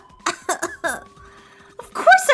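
Clover coughing hard in Zero Escape: 999, a rapid burst of three or four rough coughs up close, a brief pause over a low steady hum, then another ragged, voiced coughing fit.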